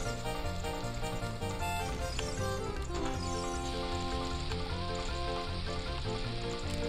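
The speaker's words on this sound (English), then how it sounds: "I realize this is specifically horse race music, but it could just as easily just be minigame music." Horse race music from the video game The Legend of Zelda: Ocarina of Time, a bright minigame-style tune with steady, continuous melody and bass lines playing at moderate volume with no talk over it.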